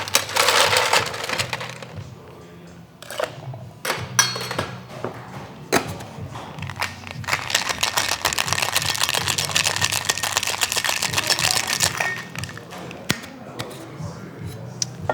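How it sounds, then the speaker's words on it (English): Egg white gin fizz dry shaken without ice in a cocktail shaker, a long stretch of loud, dense rattling and sloshing bursts with occasional sharp knocks. "We're gonna dry shake this first without ice to get it nice and frothy"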